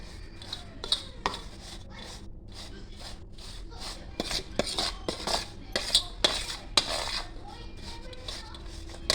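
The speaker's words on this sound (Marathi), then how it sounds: "थोडेसे गुटल्या होतील फोडून घ्यायचं पटापट फुटतील" Metal spoon scraping and tapping in a pan while breaking up lumps of gram flour for besan laddoo, with a series of irregular, close scrapes and clinks of moderate loudness and no talking.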